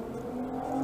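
Car engines revving at a city intersection where drivers appear to be racing, a brief steady mechanical drone and rising whine heard from a short distance without talk.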